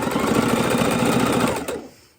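Sewing machine stitching felt Easter eggs, a loud, fast rattling mechanical drone running steadily close by, then slowing and stopping near the end.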